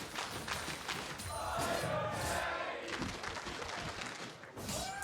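A packed esports arena crowd at a League of Legends match roars and cheers, loud and sustained, swelling for a few seconds with scattered clapping and shouts before easing slightly.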